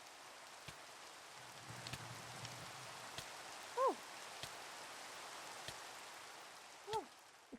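A rain sound effect fills a comedy news skit about acid rain: steady, close hiss and patter throughout. A voice gives a couple of brief exclamations over it.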